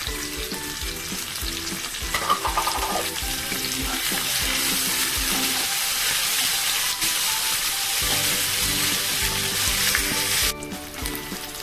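Ginger paste fries in a pan with a bright, continuous sizzle. Scraping stirs come in a rhythm over the hiss, and no voices are heard.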